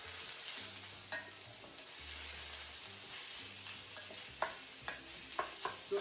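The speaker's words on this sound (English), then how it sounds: "All our aromatics go in. We're going to give this a quick stir." Aromatics for a chicken pelau sofrito frying in hot oil, a soft constant sizzle with a low hum beneath, then several sharp spoon clinks and scrapes as the pan is stirred, close and fairly quiet.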